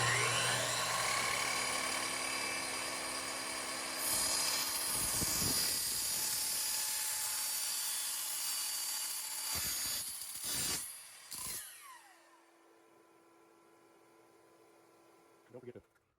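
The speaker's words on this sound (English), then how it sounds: "All right, gonna cut it on my miter saw here." A miter saw fitted with a wood blade cuts a thin drag chain part, starting with a loud steady motor whine, then several short bursts of cutting before the saw spins down and goes quiet, close up.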